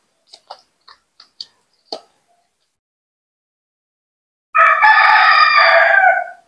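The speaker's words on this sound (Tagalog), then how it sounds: "pasensya na sa ingay ng manok" A rooster crows once, loud and close, in a sustained ringing call after a few faint scattered ticks and clicks, with no one speaking.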